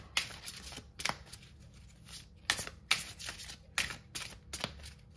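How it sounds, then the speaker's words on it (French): Tarot cards are shuffled and drawn by hand: a close, quiet run of papery riffles and flicks in bursts, with short pauses between them and no voices. "Je vais prendre une dernière carte."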